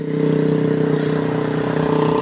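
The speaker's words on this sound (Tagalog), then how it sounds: "Ingay motor." A motorcycle engine drones loudly and steadily up close by a seawall, holding an even rumbling tone with no pauses.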